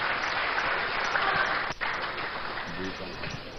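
An audience in the KNUST Great Hall applauds steadily at moderate volume, a continuous wash of clapping with a voice talking faintly over it.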